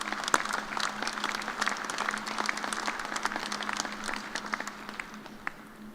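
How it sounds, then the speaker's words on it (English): Audience at a fall college agriculture commencement applauding the faculty, moderately distant clapping from a large crowd, steady and then fading softly at the close. "I'd like to give the faculty a round of applause"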